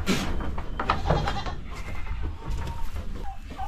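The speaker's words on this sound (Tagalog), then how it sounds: "Ito po yung mga upgraded natin na kambing" Several goats bleat close by in short, wavering cries over a noisy farmyard background, with no talking.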